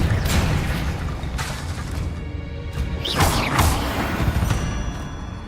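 Confringo fire spell explosions blasting in Hogwarts Legacy: a series of loud, booming bursts and whooshing crashes over a dense, rumbling game soundscape, with no pause between impacts.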